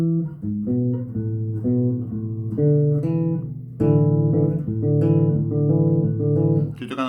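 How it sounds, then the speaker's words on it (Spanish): A bass guitar plucks out a steady sequence of notes, root, perfect fourth and perfect fifth, outlining a suspended fourth chord, clear and close with no voices. "Estoy tocando tónica, cuarta justa y quinta justa."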